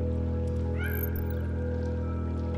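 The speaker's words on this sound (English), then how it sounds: "Bunch of stray cats." Stray cats in a video game let out a brief meow over a steady, droning game soundtrack, with no talking.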